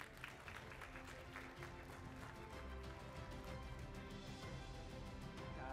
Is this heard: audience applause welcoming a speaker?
yes